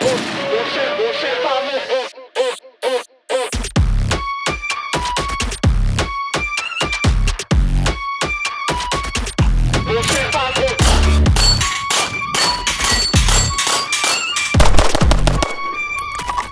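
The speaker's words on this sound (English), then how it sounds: "Let's start shooting." Gunshots ring out from a cheap 2011 pistol during a torture test, a rapid series of loud, sharp, close reports fired in quick strings with brief pauses, after some faint handling noise at the start.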